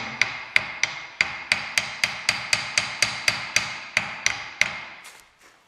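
Hammer tapping on a part of a Dana 60 axle during a rebuild, about fifteen sharp, evenly spaced metallic strikes at close range, clear and alone, ending in a brief fading ring.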